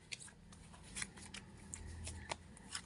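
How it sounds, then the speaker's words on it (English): Tarot cards being shuffled by hand, with soft papery riffles and several crisp flicks and snaps spread irregularly through a quiet indoor background. "as I shuffle the cards"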